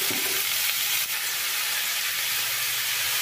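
Spices with turmeric fry in a pan with a steady, loud sizzling hiss and a faint stir near the start, continuous and close with no talking.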